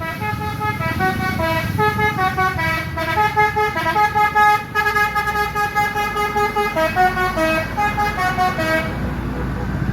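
Tourist buses climb the steep mountain road at Panorama 1 on Sitinjau Lauik, their musical multi-tone horns playing loud, continuous melodic honks over a low engine rumble, with voices faintly beneath.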